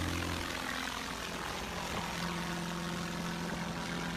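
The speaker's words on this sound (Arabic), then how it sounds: "هذه طيارة غريبة ما تحتاج مساحة عشان تطير" A strange aircraft lifting off vertically, heard as a steady, continuous engine and propeller roar at moderate distance with a faint voice underneath.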